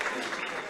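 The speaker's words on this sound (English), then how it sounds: "And you get a cheer now for a turnover." Crowd at a Galway v Donegal Gaelic football league match cheering a turnover, a broad steady roar of many voices with no distinct individual sounds.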